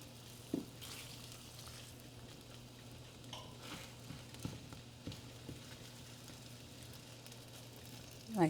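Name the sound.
cheese frying on a pan for a bacon egg and cheese bagel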